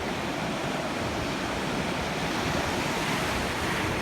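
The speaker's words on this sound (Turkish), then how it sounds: "Deniz hafif dalgalı." A lightly choppy sea laps and washes steadily around a canoe, continuous broadband surf with wind buffeting the microphone, no voices.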